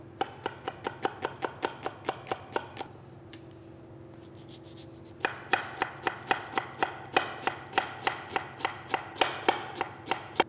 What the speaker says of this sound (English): take one large onion and chop it